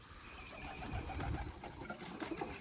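Pigeons kept in a homestead squab aviary alongside coturnix quail give soft, low cooing amid a steady ambient hum, faint and somewhat distant, with no talking.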